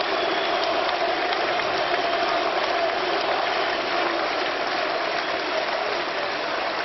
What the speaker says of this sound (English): Cries of Mirko ring around the Turon Arena. Very happy crowd to see him back.